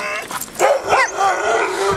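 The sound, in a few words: sled dog barking and whimpering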